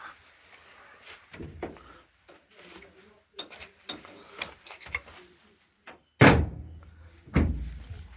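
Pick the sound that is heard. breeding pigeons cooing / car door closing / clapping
car door closing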